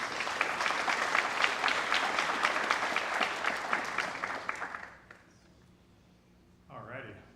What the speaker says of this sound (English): let's give a big round of applause for Fred Moyer